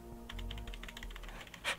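Computer keyboard keys tapped in quick, irregular succession, close and fairly quiet, over a low steady hum, ending with a slightly louder clack.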